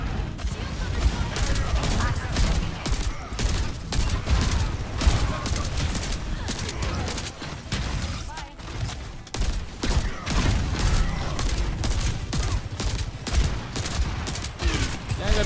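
Overwatch video game gunfire, with dense, continuous shooting and rapid bursts of weapon fire throughout, mixed with a player talking over the action.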